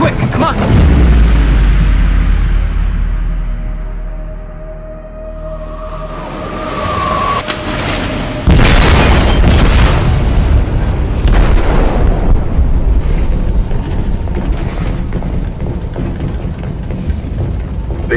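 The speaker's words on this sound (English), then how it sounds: "They detonated an explosive in the hold." An explosive detonates in a ship's hold in Detroit: Become Human, heavy booming blasts and rumbling debris with a second loud burst midway, followed by sustained roaring and creaking, with voices heard under the din.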